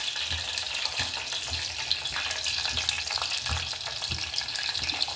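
Chopped gooseberries (usiri) for avakaya pickle fry steadily in oil in a pan, a dense continuous sizzle with soft periodic stirring scrapes, close and alone with no talk.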